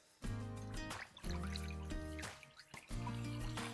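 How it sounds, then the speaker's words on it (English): Bone broth pours into a Dutch oven in three short, quiet bursts of liquid glugging and trickling, each separated by a brief pause. "So now we're going to add our bone broth into the Dutch oven."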